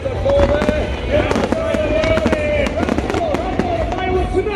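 Fireworks at the Chingay 2024 parade celebration, a rapid sequence of sharp bangs and crackling bursts with whistling rockets, set against a buzzing crowd and people talking nearby.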